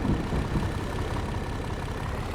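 In Farming Simulator 22, a tractor engine idles with a steady low rumbling throb, close and fairly loud, for a short stretch with no talk.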